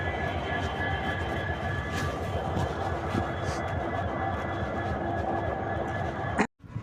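A train's engine idles in a continuous loud rumble, steady throughout, ending with a sharp clunk and a brief drop to quiet.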